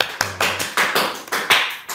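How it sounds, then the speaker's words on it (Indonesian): A small group claps hands in a few uneven bursts, close and crisp, each burst fading before the next, with no voices over it. "Tepuk tangan dong teman-teman."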